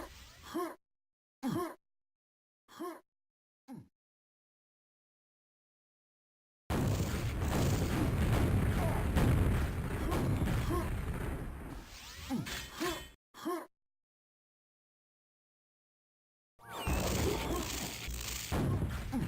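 Rocket launcher blasts in Quake come as short sharp bursts early on, then a long dense stretch of explosions and rumbling impacts, with another loud burst near the end separated by silent gaps.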